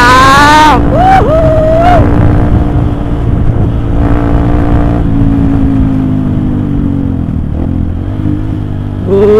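Honda CRF 150 supermoto motorcycle riding along, its engine droning steadily and loudly close to the microphone with a few revving swells, while a voice speaks briefly at the start.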